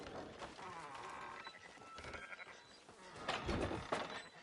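Several sheep bleat in Red Dead Redemption 2 over a busy, noisy background with some clattering, moderately loud and close.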